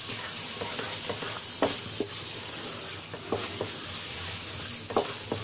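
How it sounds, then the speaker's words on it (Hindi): Carrot barfi mixture with khoya and dry fruits is roasted in a pan, giving a steady close sizzle broken by repeated soft scraping stirs of a spoon. "इसको हम फिर से इसको अच्छे से मिक्स कर देंगे और थोड़ा सा इसको भून लेंगे"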